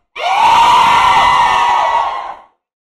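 A crowd of participants at a classroom or school event loudly shouting and cheering together for about two seconds, a sustained burst of many voices that then cuts off.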